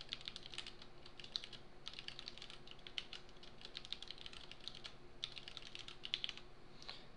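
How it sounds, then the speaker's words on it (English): A password being typed on a computer keyboard, with quick irregular bursts of light key clicks separated by short pauses, close and fairly quiet, with no speech. "I could type."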